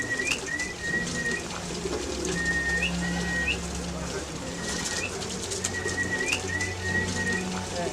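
Long-distance racing homing pigeons coo in low, rolling repeated calls close by, several overlapping, with a few brief wing flutters and higher chirps, someone talking quietly underneath.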